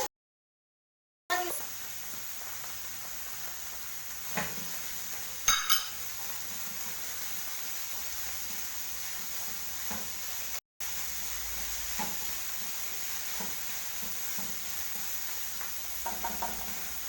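Chicken pieces fry in melted butter in a pan, giving a steady soft sizzle throughout, broken by a few light knocks and clinks of a utensil against the pan.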